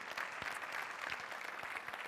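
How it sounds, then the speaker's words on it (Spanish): Church congregation applauding, a full crowd of hands clapping in a dense steady roar with a few sharper claps standing out, heard faintly and at an even level with no talk. "Vamos, si le va a dar ese aplauso, dáselo fuerte"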